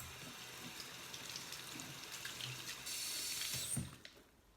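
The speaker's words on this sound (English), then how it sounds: "let me rinse my hands" Hands rinsed under a running kitchen tap, a steady close stream of water splashing into a sink throughout, growing fuller near the end before the flow stops abruptly.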